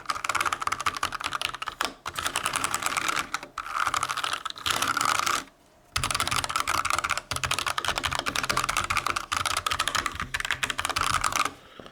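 Continuous close-up typing on a Drop Rohan mechanical keyboard, a fast steady stream of sharp clicks broken by a couple of short pauses.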